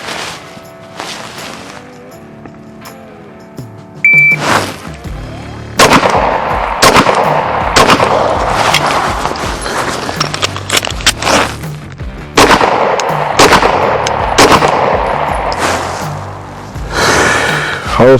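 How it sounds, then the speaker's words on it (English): Pistol shots ring out on an outdoor range during a qualification drill: a quick string of loud, sharp reports, a pause for a combat reload, then another rapid string of close, echoing shots, with no talking. "Now from the ready, 3 rounds kneeling, do a combat reload, 3 rounds standing, and 20 seconds."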